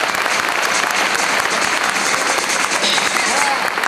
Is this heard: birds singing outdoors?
no